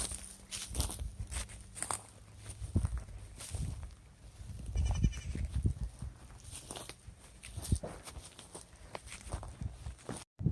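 Goats bleat intermittently on a farm property amid footsteps and rustling outdoor movement, the animals fairly close with several overlapping calls.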